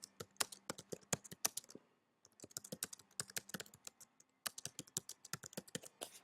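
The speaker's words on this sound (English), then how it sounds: "type something in." Quick, irregular clicks from a computer keyboard come in bursts with short pauses, faint and close, with no voices.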